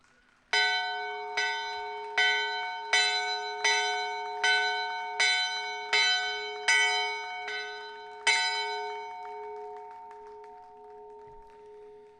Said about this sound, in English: to ring the bell to signify the start of the school year.